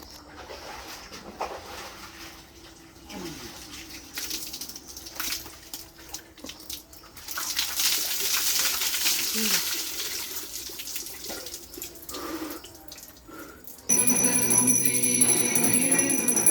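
Very cold bath water poured from a vessel, a series of uneven splashes and gushes up close, with brief muffled vocal sounds between pours and a steadier, louder rush of water near the end.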